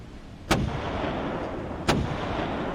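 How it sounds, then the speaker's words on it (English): Two loud, sharp gunshots in the video game Dagon, each a sudden blast about a second and a half apart, over a constant low rumbling ambience with no talk. "Is that gunfire?"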